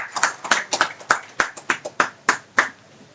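At the inaugural ceremony of the IEEE ICECCT 2024 conference, a small group claps in a sparse, uneven run of about a dozen distinct claps, close and fairly quiet, with no talk.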